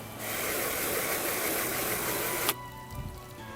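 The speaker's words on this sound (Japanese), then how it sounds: "ちょっと水をかけてみましょうか。" Water sprays in a loud, steady hiss for about two and a half seconds onto a car side mirror fitted with a water-repellent film, then cuts off abruptly, followed by faint dripping and handling.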